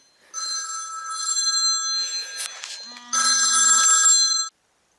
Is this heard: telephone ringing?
yes